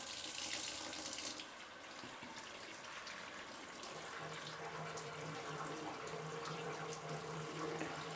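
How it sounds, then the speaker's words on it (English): A kitchen tap runs steadily while a blanched pork leg is washed under it, a close, continuous splashing rush of water that holds at an even level throughout. "wash the pork leg"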